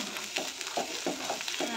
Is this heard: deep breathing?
no